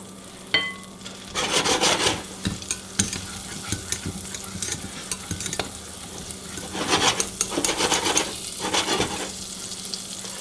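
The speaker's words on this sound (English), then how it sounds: "Now for the glaze, we're going to go in with our butter. We're going to get this nice and melted." Butter melts and sizzles in a pan for a carrot glaze, a soft continuous frying crackle broken by bursts of scraping and stirring.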